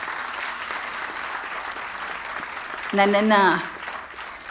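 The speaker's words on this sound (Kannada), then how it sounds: "ಒಂದು ದೊಡ್ಡ ಚಪ್ಪಾಳೆ ಕೊಡ್ತೀರಿ" An audience at a cultural programme gives sustained applause, a continuous crowd clapping that runs throughout while someone speaks briefly over it near the end.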